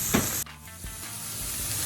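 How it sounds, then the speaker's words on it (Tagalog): Canned jackfruit sautéing in a pan for ginataang langka, a steady close sizzle and hiss with a brief stir or clatter early on, no talking. "nagisa na natin siya ng mga 2 minutes"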